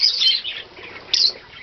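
Captive pet birds chirping up close, with bright, rapid high tweets in two bursts, one at the start and another about a second later, separated by softer twittering.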